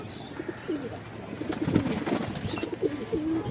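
Pigeons on a rooftop give a few low, rolling coos in short phrases, close and moderately loud, over faint outdoor background noise.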